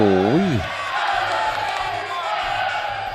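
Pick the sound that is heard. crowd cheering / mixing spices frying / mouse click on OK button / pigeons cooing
crowd cheering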